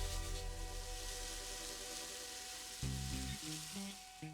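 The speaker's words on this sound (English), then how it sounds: "Add in the roasted tomatillos, get it all mixed up." Roasted tomatillos stirred in a pan over low heat, a continuous soft sizzle and hiss with occasional scraping strokes, close and steady, without speech.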